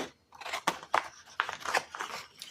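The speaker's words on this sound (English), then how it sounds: "when you're cutting with scissors, it's not going to be perfect" Scissors snip through paper in a series of crisp, close cuts, each a short crunching burst with brief pauses between, fairly loud and with no voices.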